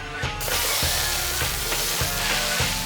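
Shallots frying in olive oil in a hot pan, a loud, continuous sizzle that starts abruptly and stays dense and crackling throughout.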